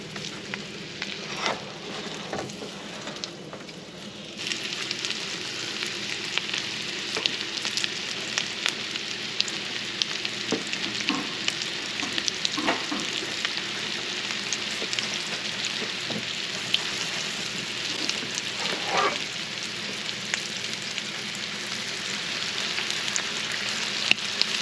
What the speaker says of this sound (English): Okay, crab cakes are gonna go in.